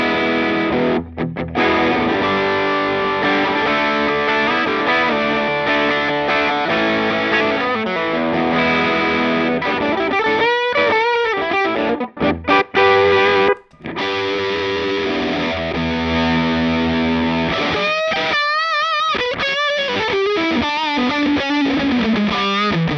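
Electric guitar with heavy overdrive distortion, playing sustained chords and bending lead notes, loud and up close with no talking.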